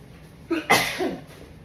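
A single quick sneeze, set off by pepper while seasoning a pan of smothered potatoes, heard near and fairly soft with a short breathy tail.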